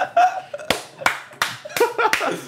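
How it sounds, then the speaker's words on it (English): A few sharp, uneven hand claps break through laughter and chatter among friends recording a podcast, close and loud, mixed with chuckles and overlapping voices. "Round of applause to Nathan for being a little drunk."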